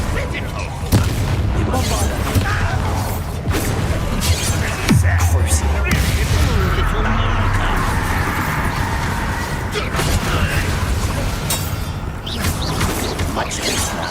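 Confringo fire spell blasts in Hogwarts Legacy combat, heavy booms and crashes layered over dense mechanical game noise, loud and continuous, with a sharp impact burst around the midpoint.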